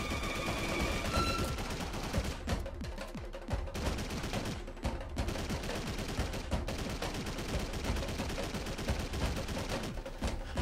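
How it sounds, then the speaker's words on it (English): Rapid gunfire in the video game DRIV3R, dense repeated shots crackling almost continuously for several seconds under game sounds, loud and near. "you can stand and shoot Jericho until taking him down with no risk of being shot"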